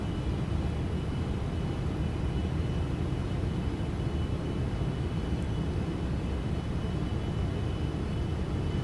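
Steady broadband roar of a Boeing 777-300ER airliner's engines in X-Plane 12 on approach to Newark Liberty International, a constant loud drone with no voices.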